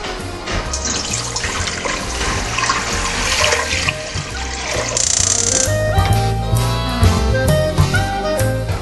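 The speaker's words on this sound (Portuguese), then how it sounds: "O nosso caldo, nós vamos colocar a água," Water gushes loudly and continuously into a cooking pot, about three litres poured for a broth, with a steady rushing splash that fills the whole stretch.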